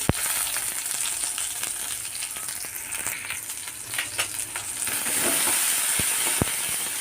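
Curry leaves crackle and sizzle in hot oil while a South Indian chammanthi and stir-fry are being made, a steady loud frying hiss with sharp pops and occasional stirring scrapes throughout.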